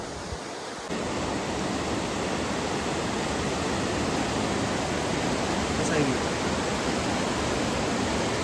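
River water rushing over rocks near Lonavala, a loud, steady broadband roar starting abruptly and continuing unbroken, heard up close.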